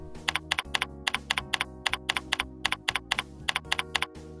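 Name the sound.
computer keyboard keys pressed, arrow keys and Enter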